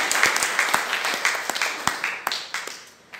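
A church congregation applauds after a sermon on faith, a steady patter of many hands clapping at moderate distance with a few sharper individual claps standing out.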